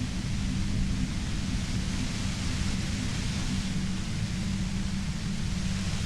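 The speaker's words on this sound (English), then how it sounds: "You hear through the white noise. It's especially bad suddenly." Steady, dense white-noise static from a video game hisses continuously at an even, fairly loud level with a heavy low rumble underneath and no pauses.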